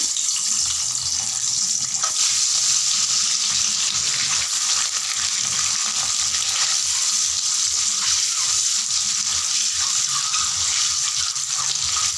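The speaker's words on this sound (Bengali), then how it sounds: "তেল গরম হয়ে গেছে, আমি ডিমগুলোকে দিয়ে দিচ্ছি" Boiled eggs fry in hot oil for an egg curry, giving a loud, continuous close-up sizzle that holds steady throughout with no talk.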